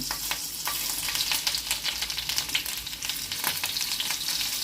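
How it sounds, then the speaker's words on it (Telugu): Green chilli slices sizzle and fry in hot ghee, a steady close crackling hiss with faint stirring, no voices. "నెయ్యి వేడెక్కిందండి. ముందుగా పచ్చిమిర్చి చీలికలు వేస్తున్నాను."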